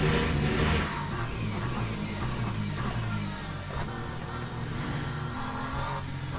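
A hypercar in the Le Mans Ultimate racing game roars past during a daily online race, a loud engine drone that swells early and then holds steady as it goes by, with no talk.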